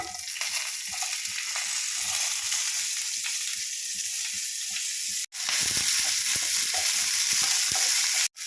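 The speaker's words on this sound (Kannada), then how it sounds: "ಫ್ರೈ ಆದಮೇಲೆ ನಾನು ಇದಕ್ಕೆ ಈರುಳ್ಳಿನ ಹಾಕ್ಕೊಳ್ತಾ ಇದ್ದೀನಿ" Onions frying in a pan for a dhaba-style mushroom gravy, a steady, loud, close sizzle with faint stirring scrapes and two brief breaks.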